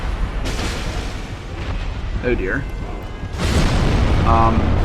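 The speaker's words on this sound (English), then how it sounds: "the closer you are to that explosion, the more it does to you" Video game explosion in Dark Souls, a heavy rumbling boom with a burst of crackling debris, loud and followed by more game sounds, with someone speaking briefly over it.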